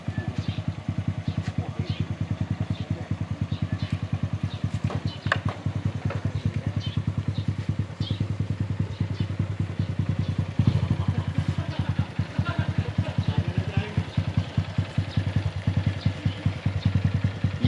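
A motorcycle engine idles nearby with a steady rapid putter, its revs rising briefly partway through, with faint clatter in the background.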